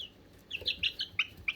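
Chickens clucking and chirping in short, bright bursts, several calls in quick succession close by, starting after a brief quiet moment with no talking.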